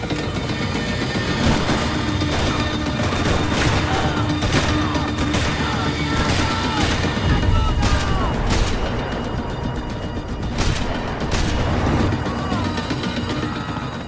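Sustained gunfire and crashing impacts from the video game Max Payne 3 roll on continuously at high volume, with dense bursts and booms layered throughout.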